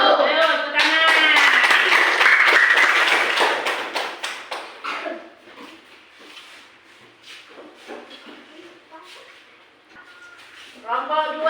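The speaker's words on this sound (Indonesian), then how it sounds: "Ayo, tepuk tangan." Students applaud in a classroom, a loud burst of clapping at the start with cheering voices, thinning into scattered claps and chatter, then a brief final flurry.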